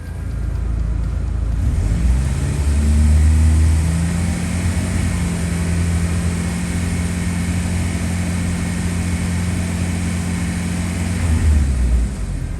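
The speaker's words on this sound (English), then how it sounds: "you receive the instruction to increase the RPM to 2500 for 5" A car engine held at a raised 2500 RPM during a battery load test with a Topdon BT100 tester, a steady loud droning hum with a rising pitch early on and a sustained even tone, no talking.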